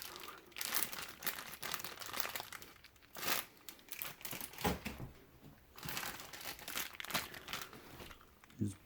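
A plastic parts bag from a Tamiya CC-02 Mercedes G 500 kit is handled up close, giving quiet, irregular bursts of crinkling and rustling.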